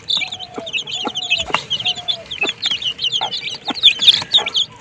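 Many small desi and Fayoumi chicks peep and cluck continuously in a rooftop brooder, a dense overlapping chorus of high chirps close by with a few lower clucks and sharp knocks.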